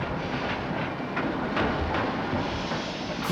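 A train passes close by with a loud, steady rumble and a rhythmic clickety-clack of wheels over rail joints, and no voices are heard.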